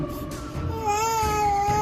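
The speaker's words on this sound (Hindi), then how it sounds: "ये बेबी येलो की रोने की आवाज़ कहाँ से आ रही है?" A baby cries in a loud, wavering wail that rises and holds for a couple of seconds, heard close and clear.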